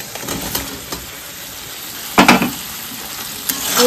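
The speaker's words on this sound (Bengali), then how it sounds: "এর ভিতরে সেদ্ধ করা আলু দিয়ে দিব" Boiled potatoes tipped into a fried spice masala for a black-cumin aloo dum, with a soft sizzle, a few light utensil taps and a louder burst of scraping and clatter midway, no talking.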